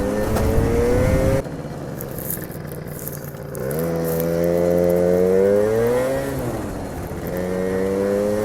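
Scooter ridden along a quiet residential road in cold weather, its engine droning steadily up close and rising and falling in pitch as it speeds up and eases off, with wind noise throughout.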